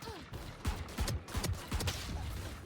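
Gunfire in a first-person shooter video game, a quick series of sharp shots and bursts in uneven rhythm, moderately loud, with brief voice sounds in the background.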